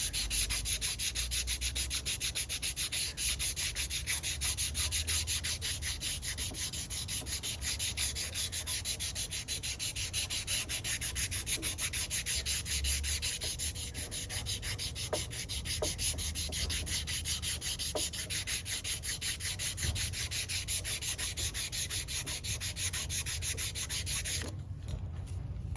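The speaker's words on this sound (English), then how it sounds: "I'll sand the stem part first, and then pick up any scratches that are in the bowl" Steady abrasive rubbing of sandpaper on the stem of a handmade Native American ceremonial pipe, close and continuous with an even back-and-forth texture for the whole stretch, no voices.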